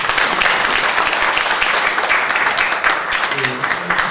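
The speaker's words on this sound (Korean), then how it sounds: "박수 부탁드리겠습니다" Sustained applause from the audience at a local food and social enterprise symposium, a dense even patter of many hands throughout, with a voice faintly starting to speak toward the end.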